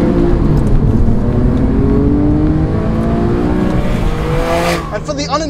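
Porsche 911 Carrera S with a naturally aspirated 3.8 litre flat six, its engine droning loudly and shifting in pitch as it runs, with a brief flare near the end and a voice talking over it.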